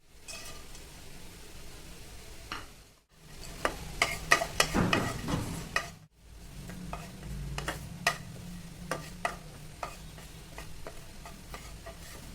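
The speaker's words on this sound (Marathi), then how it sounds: "त्यामध्ये मी काजू बदाम चारोळे पिस्ता ह्याचे छोटे छोटे काप केलेत ते आता मी भाजून घेणार" Chopped cashews, almonds, charoli and pistachios roasting in ghee in a pan, a soft sizzle broken by irregular spoon clicks and scrapes, with two brief silent gaps, close and quiet.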